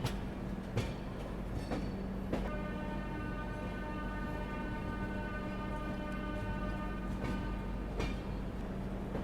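Passenger train hauled by a WG7 locomotive at Bilaspur railway station, a steady rumble of rolling rail cars with a sustained high-pitched tonal whine, close and continuous throughout.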